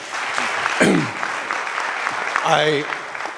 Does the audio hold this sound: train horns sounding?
no